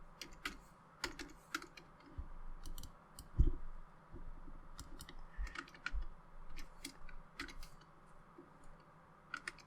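Soft keyboard typing taps out a search for an unfamiliar word, scattered quick clicks and short bursts of keystrokes at close range against a quiet room, with no talking.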